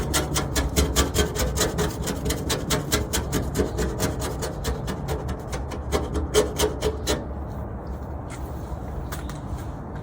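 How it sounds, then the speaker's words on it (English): A razor blade scrapes paint off glass in rapid, rhythmic rasping strokes, close and steady for about seven seconds, then slower, fainter scrapes. "see, it takes a lot of force to keep scraping."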